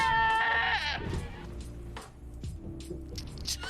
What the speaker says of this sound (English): Steve CTR0 summoned the goat